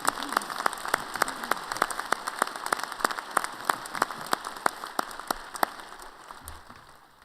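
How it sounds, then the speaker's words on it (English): Commencement audience at Weber State University applauding retiring faculty, distinct rhythmic claps ringing out in a large reverberant hall over a wash of crowd clapping, tapering off toward the end. "Please, let's give them a round of applause."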